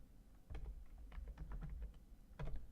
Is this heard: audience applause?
no